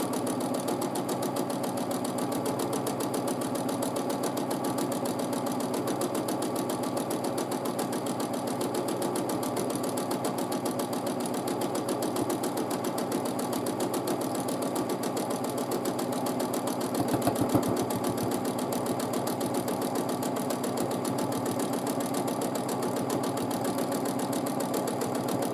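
A sewing machine quilting fabric runs in one long, steady, fast mechanical hum and chatter, close and even throughout with barely any change in pace, and no one speaks.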